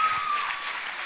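Applause from a crowd at a spoken-word performance night, a steady, dense wash of clapping heard fairly faintly and alone for a brief moment.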